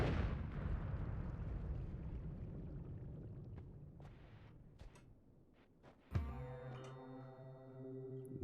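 Bombs explode in the pixel-physics game Noita: a heavy blast rumbles and slowly fades with scattered crackles, then a sharp second burst gives way to a ringing, shimmering tail.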